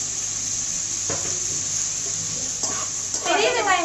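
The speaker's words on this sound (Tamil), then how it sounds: "பெரிய வெங்காயம் சேர்த்துட்டு நல்லா வதக்கி விடணும்." Sliced large onions, three of them cut lengthwise, are sautéed in a pan of hot oil while cooking paneer butter masala, giving a steady close sizzle with a few stirring scrapes and a louder crackle near the end.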